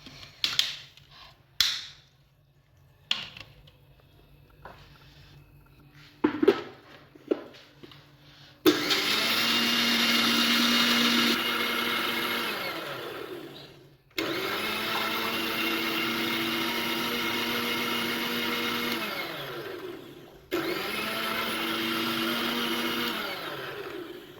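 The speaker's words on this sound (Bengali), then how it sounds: "এখন এটা ব্লেন্ড করে নিচ্ছি" A kitchen blender whirs loudly, blending a pudding mixture with sugar in several long continuous bursts with brief pauses between them, after a few short clicks and knocks as it is set up.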